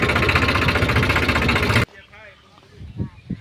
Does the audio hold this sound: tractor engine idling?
yes